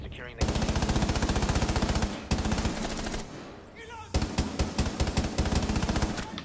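Rapid automatic gunfire in a video game, loud close bursts of evenly spaced shots in three long strings separated by brief pauses, with a voice faintly underneath.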